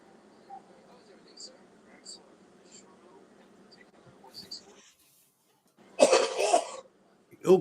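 A person coughs in a short, harsh burst near the end, loud and close, after a quieter stretch of murmuring voices and small clicks.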